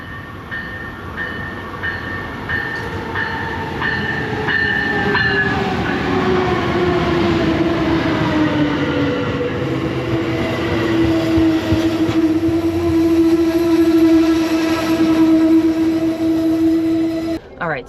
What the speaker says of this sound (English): All right, our train is arriving.